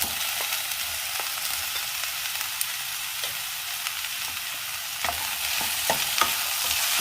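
Ivy gourd and potato strips sauté in coconut oil, a steady close sizzle broken by light, scattered scrapes and taps of a stirring spoon.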